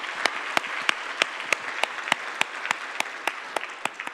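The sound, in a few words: congregation applauding in church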